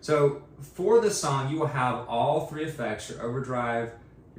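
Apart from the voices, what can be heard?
No distinct noise like a dog, phone or traffic.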